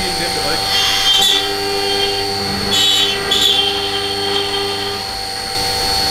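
A CNC milling machine cutting an intake manifold for a Vespa scooter, a steady tonal whine with several higher cutting bursts and a constant machine hum, while someone speaks German over it.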